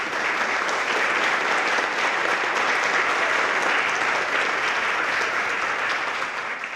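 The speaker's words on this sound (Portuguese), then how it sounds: "Queria pedir uma salva de palmas para elas" Steady, dense applause from an event audience for the staff at an agribusiness gathering, continuous and even throughout with no break.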